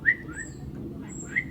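A small bird chirps twice outside a cabin in rural Ireland, with two short bright calls about a second apart over a steady low outdoor hum.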